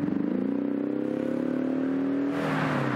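Synthesized V8 engine sound piped through the cabin speakers of a 2.3-litre Ford Mustang in Sport Plus mode, a loud, steady droning growl that rises slightly in pitch over about three seconds before easing off.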